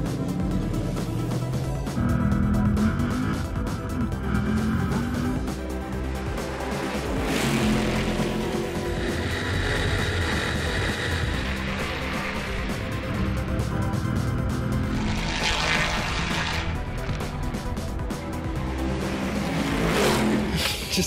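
A fast racing car drives around a racetrack, its engine roaring and revving continuously up close, with rising and falling surges as it accelerates through gears.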